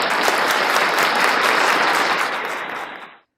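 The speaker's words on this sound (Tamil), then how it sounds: "ஒரு பலத்த கரகோஷம் கொடுத்துருவாங்க" Dense, loud applause from a Patti Mandram debate audience for the speakers at a Tamil New Year event, sustained and then fading out quickly at the end.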